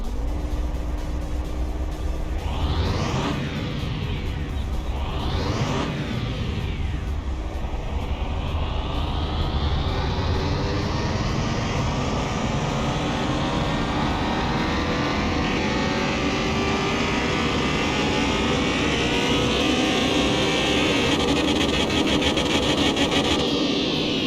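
Car engine in Car Mechanic Simulator 2021 revving on a dyno: two quick rising and falling revs, then a long steady climb to high revs, loud and continuous with no talk.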